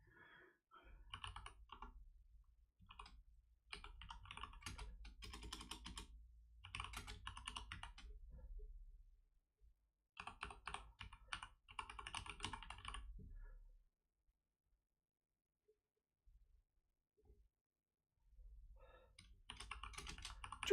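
Close, brisk typing on a hardware computer keyboard, coming in bursts of rapid key clicks with brief pauses between them and a longer quiet gap near the end before the clatter resumes.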